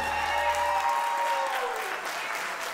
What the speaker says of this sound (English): One more round of applause for Taylor, Ashton, and their bridal party